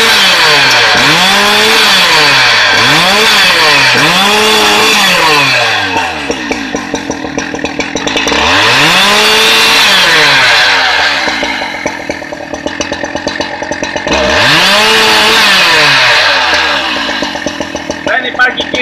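A modified homemade chainsaw revs loudly three times in rising and falling bursts, idling with a rough buzzing rattle in between, close and continuous.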